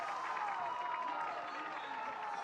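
Crowd at a Valorant VCT Americas esports match, a faint, diffuse roar of cheering and murmuring behind a caster speaking over it.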